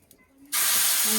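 A sudden loud hiss of oil hitting a hot tawa, bursting in after a quiet moment and holding steady to the end.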